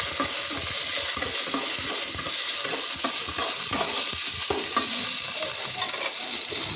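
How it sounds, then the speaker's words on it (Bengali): Onion and tomato fry in a pan with a steady, close hiss of sizzling, broken by frequent scraping stirs throughout, with no talking. "এই যে পেঁয়াজ আর টমেটোটা রেখেছি দিয়ে এবার একটু ভেজে নেব"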